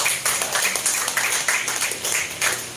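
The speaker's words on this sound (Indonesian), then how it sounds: "Tepuk tangan buat Pak Rito." An audience at a public discussion forum claps in steady, dense rhythmic applause for an 85-year-old man, the claps close and continuous throughout.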